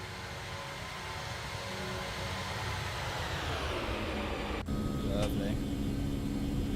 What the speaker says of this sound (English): V1 and rotate. Gear up. We'll go for a flyby.